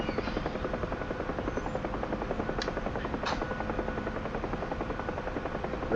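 Steady rotor thump of a UH-1H Huey in the DCS flight simulator, continuous and even from the cockpit with a constant turbine hum beneath, plus two brief sharp clicks partway through.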